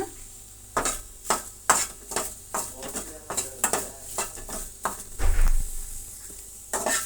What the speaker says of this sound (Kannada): ಈಗ ಸ್ವಲ್ಪ ಒಣಗಿದ ಕರಿಬೇವಿನ ಸೊಪ್ಪನ್ನು ಫ್ರೈ ಮಾಡ್ಕೊಳ್ಳೋಣ